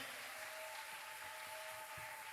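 Church congregation applauding to acclaim Jesus at an evening service, a steady dense wash of clapping from a crowd, moderately loud and continuous.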